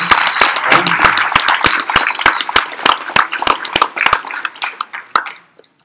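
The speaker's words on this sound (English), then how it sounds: "So can we get a round of applause, actually, for putting those together?" Scattered applause from a small class audience, sharp distinct claps at a brisk rhythm that thin out and fade to silence.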